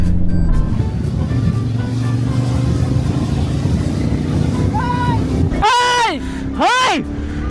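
A car is driven along a road while overtaking, its engine droning steadily up close, then two short wavering tonal blasts near the end.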